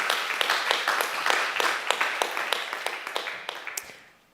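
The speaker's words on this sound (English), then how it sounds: "Thank you. Yeah, applause." Audience clapping at a conference event, steady crowd applause with sharp individual claps that gradually thins and fades out over a few seconds.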